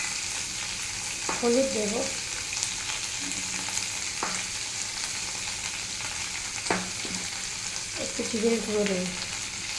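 Poppy seed paste with potato and onion fries in oil, a steady soft sizzle with occasional stirring scrapes, while a person talks over it.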